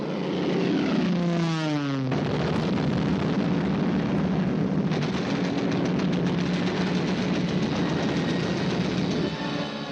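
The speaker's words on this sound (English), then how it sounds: "The ship was bombed and sunk with the loss of American lives." Bombs burst around the gunboat USS Panay on the Yangtze in old archival film, a loud continuous roar of explosions with an aircraft engine swooping down early, then rumbling blasts and crackling bursts to the end.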